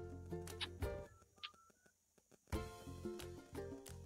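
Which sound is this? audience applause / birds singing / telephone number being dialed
telephone number being dialed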